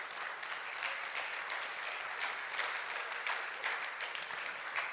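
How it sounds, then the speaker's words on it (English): Sustained, dense applause from a conference audience at a Jamaica health and wellness tourism conference, steady and loud throughout with no pauses. "Give them a big round of applause"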